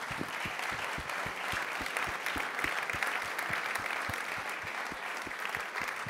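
An audience at the TÜV Austria science award ceremony in 2021 gives sustained, dense applause that carries steadily for several seconds, with a pulsing rhythm running beneath the clapping.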